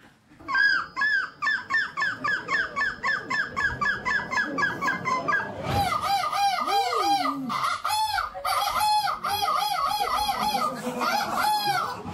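Crowd of contestants at a European seagull-call championship imitating gull cries with their voices, a dense run of loud, repeated squawking calls overlapping one another from start to finish, with a lower wavering cry midway.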